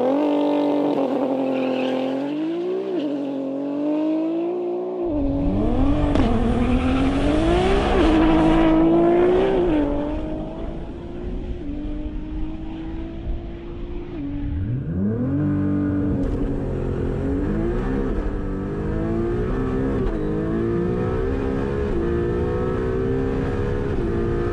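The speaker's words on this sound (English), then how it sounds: "the quickest and fastest R35 in the country, do down the runway" A Nissan GT-R R35 drag car makes a pass down a runway strip at Cootamundra, its engine revving hard through rising gear pulls with sharp shift breaks, loud and close, then settling into a steady roar as it runs on.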